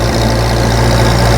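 A Grey Fergie tractor engine running at low throttle, a loud steady low idling rumble heard close and continuously.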